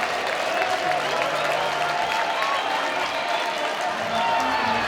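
An ice hockey crowd at a Sheffield Steelers pre-season game against Leksands IF applauds a penalty kill with steady, broad clapping and cheering that fills the arena. A commentator talks continuously over the top.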